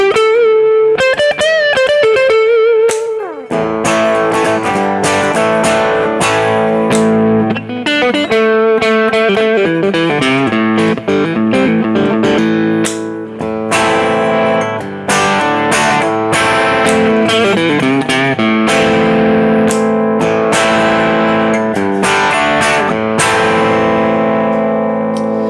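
An electric guitar on its neck pickup plays through heavy distortion, with sustained chords and riffs ringing out loud and saturated for about twenty-five seconds, with no talking.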